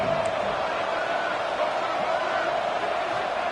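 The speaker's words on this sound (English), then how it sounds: "Up, and so is the noise. The crowd electric, trying to help Tech on this third down." Steady stadium crowd roar from a College Football 25 game during a third down, a dense continuous wall of fans with faint cheering swells running throughout.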